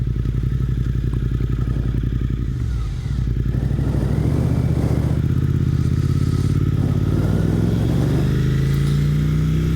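A Suzuki GSX-8R motorcycle being ridden, its engine droning steadily and loudly up close, rising in pitch as it accelerates through the gears with a dip partway through.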